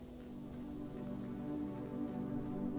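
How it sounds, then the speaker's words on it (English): Hail falling in the video game Blue Prince, a steady dense patter of pellets hitting surfaces that holds at an even loudness and swells slightly toward the end, with no voices. "it's hailing"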